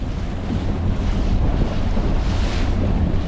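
Strong wind of about 20 mph or more roars steadily across Lake Palestine in Texas, buffeting the microphone with a constant loud rush while water laps and splashes underneath; no one speaks.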